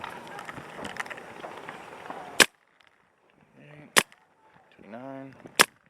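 A Luxe 2.0 paintball marker fires through a chronograph in three sharp, separate cracks spaced over a few seconds, with a hissy, noisy stretch before the first and faint mechanical sounds between shots.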